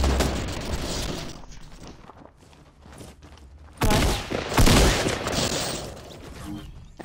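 SMG fire in Fortnite, dense rapid bursts that cut in loudly partway through and run to the end, following a quieter stretch of softer gameplay noise.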